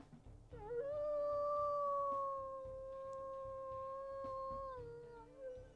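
A long, sustained wolf howl from the video game WolfQuest, steady and clear, holding one tone for several seconds before trailing off, with faint background sounds.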